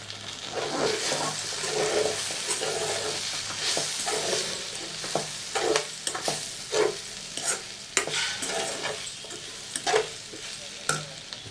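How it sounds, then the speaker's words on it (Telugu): Brinjal curry (vankaya koora) sizzling in a pan, with repeated scraping stirs at an irregular rhythm over the constant frying hiss, close and clear. "మొత్తానికి వంకాయ కూర అయితే భలే వేగింది"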